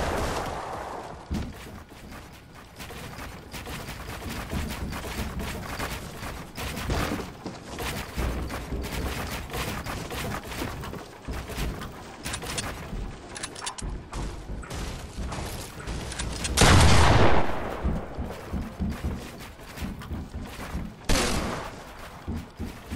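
Gunfire in a one-on-one video game shootout against an invasion alert, rapid overlapping shots and bursts that continue throughout, with a louder cluster of blasts late on and mechanical game noise underneath.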